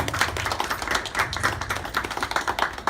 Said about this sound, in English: can we give them just a big round of applause for putting this on for tonight?